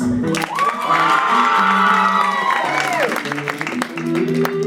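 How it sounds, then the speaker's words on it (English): A poetry slam crowd applauds the judges with clapping under loud cheering, whooping and long sustained shouts from many voices at once. "give a round of applause to the judges."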